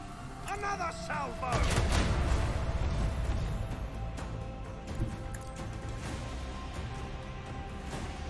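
Ship weapon batteries fire in a space battle in the video game Warhammer 40k: Rogue Trader, a dense, loud burst of booming shots and crashes that settles into a steady rumbling barrage, with a voice talking over it.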